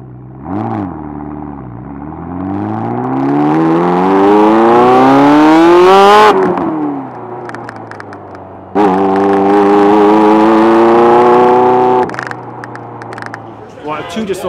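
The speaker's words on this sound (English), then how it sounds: "Under load and full throttle when it's warmed up, it really... It sounds like probably like a race car, right?" Ferrari F40 twin-turbo engine revved hard at full throttle, pitch climbing steeply to a peak, dropping back, then rising again in a second loud sustained rev before settling, close and dominant throughout.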